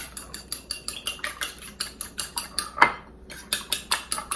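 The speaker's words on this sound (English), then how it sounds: "we'll just mix that egg up really well" Fork whisking an egg with lemon juice in a bowl, quick rhythmic clinks and scrapes repeating at an even pace with one brief pause, close and alone with no talking.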